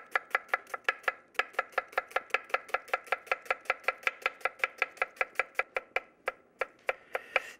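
A sharp knife chops onion on a cutting board with fast, even, crisp taps, about four or five per second, close and clear, with a brief gap near the end and no speech.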